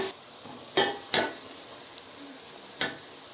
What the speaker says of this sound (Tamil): வெங்காயம் வதங்கிடுச்சு பாருங்கள், கலர் நல்லா ப்ரௌன் கலரில் மாறி இருக்கு